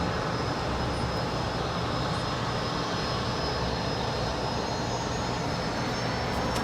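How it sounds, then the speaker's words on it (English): A China Airlines Cargo jet departing LAX for Taipei roars steadily at a distance, a broad continuous engine rush with a thin high whine that holds level throughout. "And there goes China Air Cargo 5137 off to Taipei."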